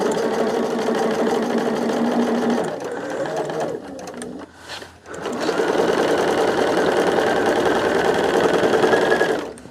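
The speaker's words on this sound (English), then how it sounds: "My machine seems like it's sewing, but ain't getting nowhere." A sewing machine runs steadily while stitching large pieces of a quilt, its loud mechanical whirr pausing briefly midway before resuming at full speed.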